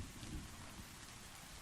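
Rain pouring on surfaces with rolling thunder as a storm ambience for a tabletop role-play scene in rainy city streets, a steady hiss with a low rumble, faint and without speech.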